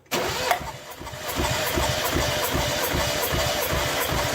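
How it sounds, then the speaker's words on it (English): A Mazda Miata engine cranks on the starter during a compression test, a close, steady rhythmic chugging of regular pulses that runs for about four seconds without catching. "Go ahead and crank it."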